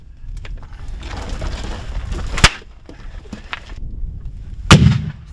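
Hand grenade blasts during military field training of airborne troops at the Hradiště training area, two sharp booming detonations about two seconds apart over ongoing rumbling outdoor activity.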